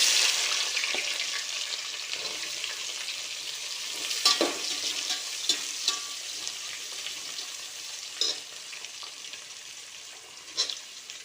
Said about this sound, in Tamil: வெங்காயம் வதங்கிறதுக்காக ஆனியன் வதங்கிறதுக்காக போட்டிருக்கேன்